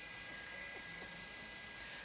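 A news helicopter hovering above a stuck Sol Spin ride at Knott's Berry Farm gives a faint, continuous engine and rotor drone that holds steady throughout.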